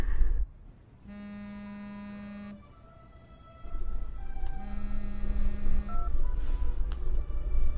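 A telephone being dialed to make a call: a sustained tone, then a series of short electronic beeps under a low background rumble and a humming drone.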